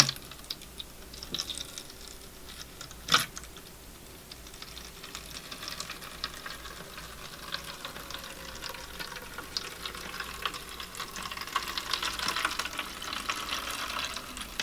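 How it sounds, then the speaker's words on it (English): Water runs into a container holding a squirt of soap, a soft, steady splashing pour that builds gently toward the end, with a single sharp knock early on. "So here I go with the water."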